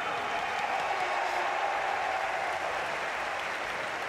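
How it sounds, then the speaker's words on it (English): Stadium crowd applauding steadily at the 2022 European Athletics Championships during a men's 800m heat, a dense, continuous wash of clapping that holds at an even level throughout. "Big applause there from the crowd."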